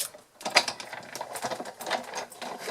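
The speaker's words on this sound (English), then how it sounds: "I'm just going to grab my die cutting machine" Hand-cranked die cutting machine rolling a die through, a quick run of whirring, ratcheting mechanical clicks and gear noise close up, with no talking.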